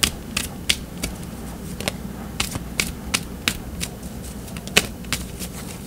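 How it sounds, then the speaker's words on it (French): Tarot cards are shuffled and drawn in quick crisp flicks and taps, an irregular series of sharp close clicks over a quiet room. "Je vais tirer une carte pour comprendre un petit peu quel genre de relation vous avez ensemble."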